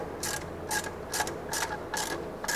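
A hand ratchet clicks in about five short, evenly spaced bursts while tightening a bolt on an engine compressor bracket, close and crisp with no talking.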